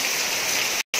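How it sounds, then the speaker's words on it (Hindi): Heavy rain pours in a broad, loud rushing wash, constant and close, cutting briefly to silence near the end before resuming. "इतने बारिश में तो मैं जा नहीं पाऊंगी"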